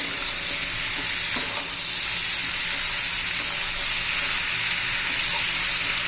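Ridge gourd pieces stir-fry in hot oil over medium heat, giving a steady, loud broadband sizzle that runs unbroken throughout with faint stirring scrapes and no talking.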